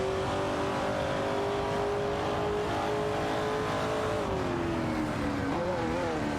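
Race cars from an AI racing video game, including a 1969 Mercury Cougar Eliminator and a Porsche 911 RS 2.7, rev and roar in a steady, continuous engine drone whose pitch shifts near the end, with no talk.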